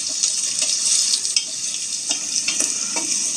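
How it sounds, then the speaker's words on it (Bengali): Chopped onions fry in hot oil to a light brown, a bright, close, continuous sizzle with a few soft stirring knocks and no talking. "পেঁয়াজগুলোকে একটু হালকা ব্রাউন করে ভেজে নিতে হবে।"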